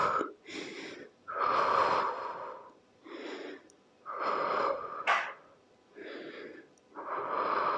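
Forceful, breathy exhales during a home toning and stretching workout come in long rasping pushes a second or so apart, close and fairly loud, with no speech between them.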